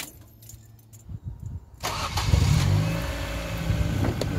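A Ford Focus MK1 engine cranks and fires up after a quiet stretch with a faint jingle of keys, then settles into a steady, close idle.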